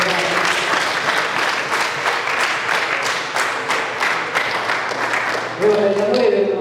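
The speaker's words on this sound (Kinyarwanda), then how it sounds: "Amashyi menshi ku bayobozi bacu." Applause from an audience for the leaders of a choir during a studio programme, dense, sustained clapping at close range that swells toward the end with a voice rising underneath.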